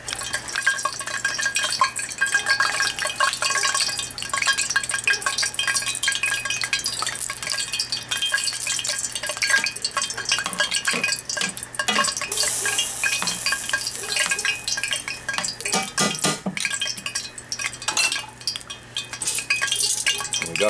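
Fish pieces for bacalao go into sofrito sauce in a pot over charcoal, with continuous close stirring, wet sizzling and occasional utensil clinks against the pot, steady and fairly loud throughout, no voices.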